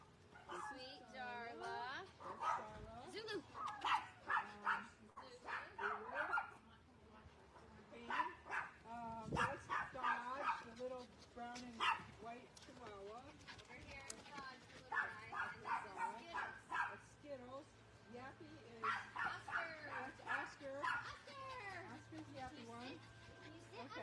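A puppy barks, yips and whimpers in repeated bursts through the whole stretch, close and fairly quiet, with a faint steady hum underneath.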